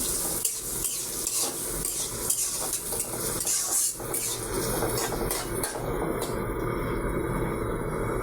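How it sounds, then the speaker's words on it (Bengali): Chopped onions frying in hot mustard oil in a pan, stirred with a utensil: continuous close sizzling with scraping and clattering of metal against the pan throughout, no talking. "পেঁয়াজটা ভালো করে নেড়ে চেড়ে বাদামি কালার করে নেব"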